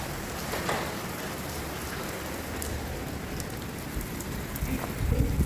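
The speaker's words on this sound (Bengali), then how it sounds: "কি সুন্দর লাগছে দেখো বন্ধুরা বৃষ্টি" Steady rain falling during a thunderstorm, a dense, even patter of drops hitting surfaces nearby that grows slightly heavier toward the end, with no voices.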